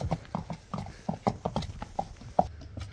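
Hooves of a grey horse clip-clop in a quick, even rhythm, close and distinct, with a steady run of clops over a few seconds.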